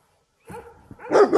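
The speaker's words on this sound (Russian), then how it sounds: "Чё ты гавкаешь? Я уже уезжаю." A dog barks at night near a parked motorcycle on a roadside trip through Croatia, giving a few short close yips and barks that build louder toward the end.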